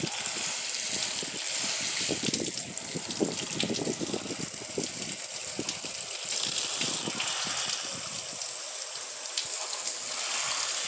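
Water streams steadily from a hose or can onto potted succulents, a continuous gushing splash that runs through the whole stretch with no talk.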